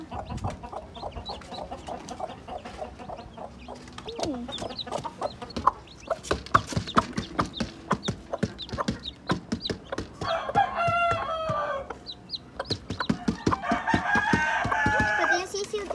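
Chickens and chicks at feeding time cluck and peck in a busy, close scatter of short sounds, with higher chick peeps, a rooster crowing, and some human talk in between.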